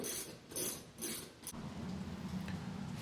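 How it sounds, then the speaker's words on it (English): A socket wrench tightens a bolt on a Craftsman self-propelled lawn mower with a 14mm socket. A few soft, rhythmic ratcheting clicks come close by and quiet, followed by a low steady grinding as the bolt snugs down. "Now we'll just tighten this up with our 14mm socket"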